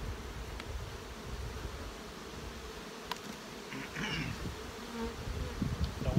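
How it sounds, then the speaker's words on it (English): Honeybees from a packed, swarming hive buzz as a dense, continuous drone that stays steady and close throughout, with no talking over it. "I was gonna show you a hive that's swarming, and they're just packed full"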